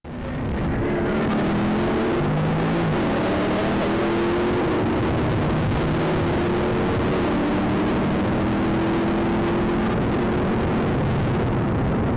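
A blue Dodge Challenger fleeing police in a pursuit roars steadily at speed, the engine note rising and shifting as it accelerates, loud and continuous with road and wind noise.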